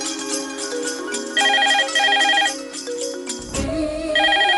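A telephone rings with a repeating electronic ringtone melody, loud and close, cycling through several bursts with a brief interruption partway through.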